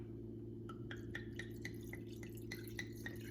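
White wine glugs from a bottle into a pot of fish stock, a quick run of rhythmic gurgling splashes and drips that builds over a few seconds against a quiet kitchen hum.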